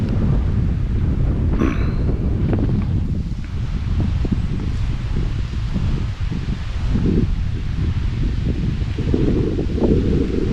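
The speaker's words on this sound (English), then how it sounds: "The wind's getting up actually" Wind gusts outdoors along a wooded walking route in the Elan Valley, near birch trees, making a steady low roar and buffeting against the microphone that lasts the whole time with no voices.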